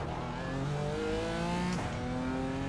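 A BMW M4 race car in iRacing, its engine held at high revs for a launch, a steady loud buzzing drone with a brief gear shift near the end and no talk.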